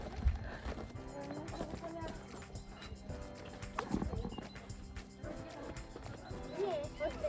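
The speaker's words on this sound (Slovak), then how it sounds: "A ešte, že máme takého trpezlivého koňa." Hooves of a patient horse clip-clopping on the ground while a five-year-old child learns to ride, steady distant steps under frequent talking from nearby people.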